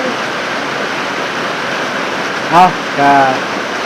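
Steady heavy rain roars evenly on a leaking house roof throughout, with a couple of brief spoken words in Thai near the end.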